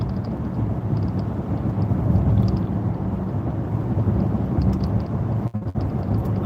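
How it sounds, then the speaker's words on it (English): Summer thunderstorm at the eastbound rest area in Kearney, Nebraska, heard as a loud, steady low rumble mixed with buffeting wind noise on the microphone, continuous throughout with no speech. "it's just a boring old Nebraska summer thunderstorm"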